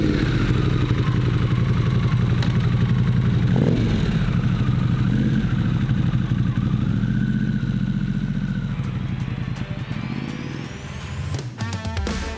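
A custom one-off Harley-Davidson Pan America rides by with a steady, loud engine drone and mechanical clatter, rising in pitch as it pulls away and fading near the end, with no talking.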